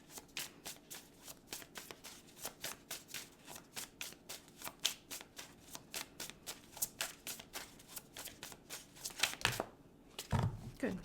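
Oracle cards being shuffled by hand, a quick run of crisp riffling flicks that continues steadily for several seconds, then a short pause and a few soft handling sounds at the end.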